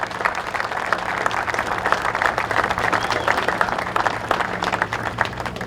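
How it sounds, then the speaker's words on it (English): A crowd gathered for a vice presidential visit at Yellowstone National Park applauds in thick, steady clapping that holds at the same loudness throughout, with a low hum running underneath. "give yourselves a round of applause"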